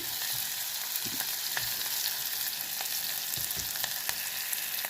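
Onions and garlic fry in a pan for a bottle gourd and chana dal curry, giving a dense, steady sizzle with occasional soft clicks and stirring taps, close by and with no talking.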